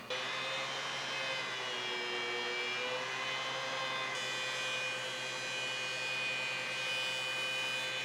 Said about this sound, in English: We're just going to clean it up on the planer.